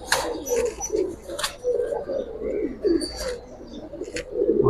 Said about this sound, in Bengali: 2টা কবুতর একই প্যাটার্নের